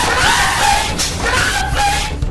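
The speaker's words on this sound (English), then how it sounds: "The woman you heard screaming is his mother." A woman screams loudly and repeatedly in a courtroom after a sentence is read, her wailing cries overlapping a noisy, crowded scene recorded for a TV news report.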